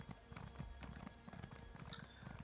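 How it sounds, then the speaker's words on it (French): A horse gallops in The Elder Scrolls Online, with steady, quick hoofbeats that are soft and muffled and repeat evenly throughout. "C'est quand même pratique les chevaux, hein, parce que ça va vraiment plus vite qu'à pied."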